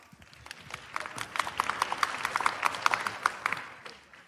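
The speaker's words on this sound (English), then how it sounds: "Round of applause" Audience at an events and technology partner summit breaks into a round of applause, building from scattered claps to steady clapping that runs a few seconds at moderate volume.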